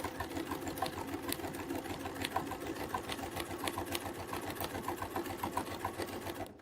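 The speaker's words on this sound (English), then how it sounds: "And now I'll hold this in place and we'll just sew to the next dot." A sewing machine stitches a quilt panel in fast, even, continuous rhythm, close and steady throughout with no talk.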